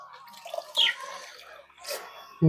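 Water poured from a container onto a garden plant bed splashes and trickles in short, uneven bursts at close range, with a brief heavier gush at the end.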